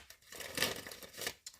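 Playing or tarot-style cards shuffled by hand close up, quick soft riffling and papery flicks in two or three short bursts, faint and alone.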